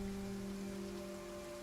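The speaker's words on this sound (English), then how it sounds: "So we're here in the acid rain, melting." Steady, continuous rain hiss in the survival game Kenshi's acid rain storm, dense and even throughout, with a constant low tonal drone underneath and no voices.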